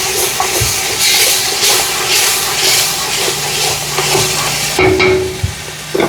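Ginger garlic paste with a pinch of turmeric sautés in a pan during mutton biryani preparation, a loud, dense sizzle with repeated scraping strokes as it is mixed, close and without speech.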